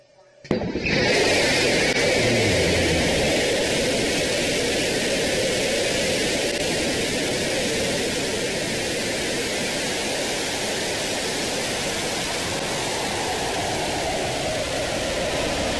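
New Shepard rocket lifting off on the NS-37 crewed launch, a sudden onset of loud, sustained broadband roar that holds steady and dense for the rest of the span, with no talk over it.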